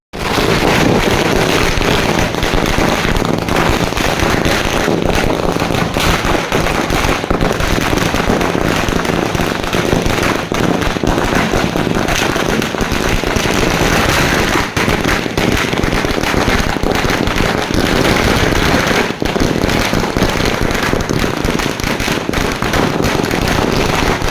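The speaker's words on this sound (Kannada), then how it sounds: "ಯುವ ಮುಖಂಡ ದಯಾನಂದ ಅವರ ನೇತೃತ್ವದಲ್ಲಿ ಸಿಹಿ ವಿತರಿಸಿ ಪಟಾಕಿ ಸಿಡಿಸಿ ವಿಜಯೋತ್ಸವ ಆಚರಿಸಿದರು" Continuous dense crackling of firecrackers bursting in rapid strings at an outdoor victory celebration, loud and unbroken, with outdoor wind noise.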